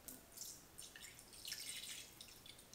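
Distilled water poured into a homemade lotion mixture, a faint, steady trickle and light dripping splash running continuously with no voices.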